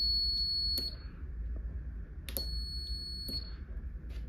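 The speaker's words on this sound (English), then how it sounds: "we should hear the buzzer" An electronic buzzer on a simple two-button circuit gives three short, high-pitched beeps, each cut off abruptly, with quiet low hum between them and no talk.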